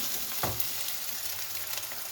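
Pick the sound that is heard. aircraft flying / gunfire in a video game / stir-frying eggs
stir-frying eggs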